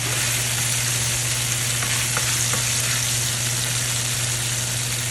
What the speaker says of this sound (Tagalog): Medyo iprito natin yung ating tokwa.